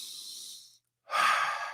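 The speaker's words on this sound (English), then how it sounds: "One of the first things I do is I do some nice deep breaths." Two slow deep breaths, one long exhale and then a strong inhale after a brief silence, close and clear with no talking.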